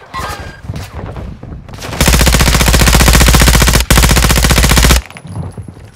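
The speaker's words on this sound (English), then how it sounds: "You are taking effective fire." Sustained automatic gunfire in the multiplayer shooter DMZ, a loud rapid burst of shots lasting about three seconds with a brief gap, preceded by faint scattered talk and distant shots.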